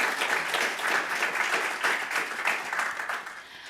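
An audience at a First Nations climate action panel forum breaks into steady applause for the panellists, a dense wash of clapping that tapers slightly toward the end.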